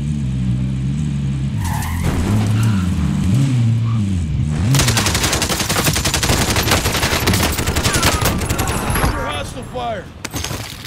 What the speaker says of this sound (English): The people on me, they're shooting.